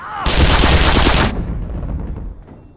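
An automated turret in Black Mesa fires a rapid, loud burst of gunfire for about a second, cutting off sharply into a fading reverberant tail.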